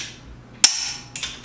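A torque wrench set to 100 pounds tightens a lug nut on a C7 Corvette, giving one sharp metallic click, then a softer second click about half a second later, in a quiet garage.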